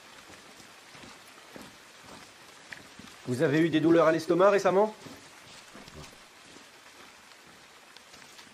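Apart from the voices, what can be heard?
rain falling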